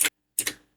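Two short keystrokes on a computer keyboard, a sharp click followed by a slightly longer double-tap click, close and clear with silence around them.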